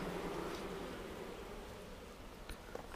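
Bees buzzing inside a newly assembled beehive, a dense, continuous humming drone, close and steady with slight swells, and no speech.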